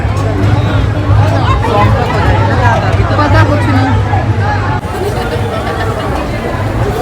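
Dense crowd chatter fills a busy Gujjar festival ground, many overlapping voices blending into a steady hubbub with a low hum underneath, while a nearby person speaks briefly over the din.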